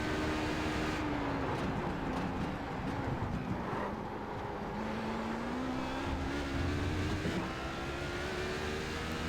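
A race car in the iRacing simulator takes Mulsanne corner, engine note holding a steady tone that dips and climbs again through the turn, loud and continuous with a faint rush of wind.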